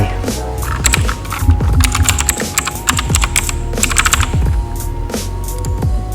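Fast, steady typing on a computer keyboard, close and clear, with a continuous patter of key clicks and occasional heavier keystrokes and no speech over it.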